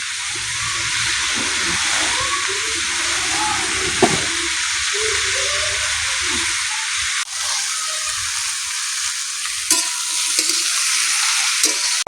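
Small prawns and taro stolons frying in a pan with ginger, cumin, coriander and green chili: a loud continuous hissing sizzle with occasional stirring knocks and scrapes, close and steady throughout.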